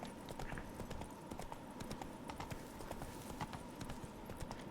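Rapid, steady clip-clop of the horse Roach's hooves on a paved street in Toussaint in The Witcher 3, close and continuous over a soft ambient bed, with no talking.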